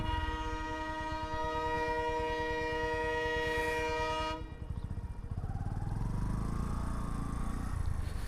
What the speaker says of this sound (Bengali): মানে ট্রেন আসতেছে।